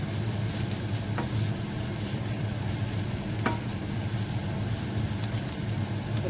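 Snake gourd and cabbage cook over medium-high heat in a pan with a continuous loud sizzle, and a couple of soft scrapes mark occasional stirring, with no voices.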